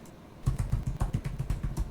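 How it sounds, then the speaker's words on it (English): Quick, evenly spaced keystrokes tapping on a computer keyboard as a password is entered, close and clear with no talking. "After typing in the password"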